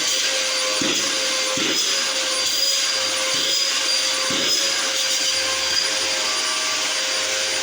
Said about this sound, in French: le moteur est en train de tourner